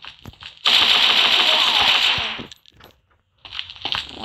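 Rapid suppressed gunfire in a first-person shooter game, a dense, loud two-second burst of fast shots followed by a pause and then a second shorter burst.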